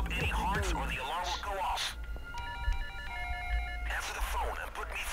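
A telephone rings in the heist shooter Payday: The Heist, a short electronic trilling tone pattern repeating for a couple of seconds between stretches of people talking.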